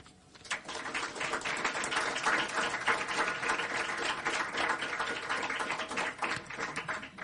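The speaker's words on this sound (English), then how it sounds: "I'm sure you're going to give her a big round of applause." Sustained applause from an indoor audience at a groundbreaking event, dense and even for about seven seconds after a brief quiet start, with no voices over it.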